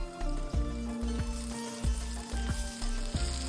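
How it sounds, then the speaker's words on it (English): Soft sizzling of chopped onions and butter in a pan with gentle frying crackle, interrupted by a regular series of clanks from stirring, close and quiet. "In a pan, add some chopped onions, a square block of butter"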